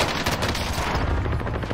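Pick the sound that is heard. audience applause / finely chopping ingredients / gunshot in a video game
gunshot in a video game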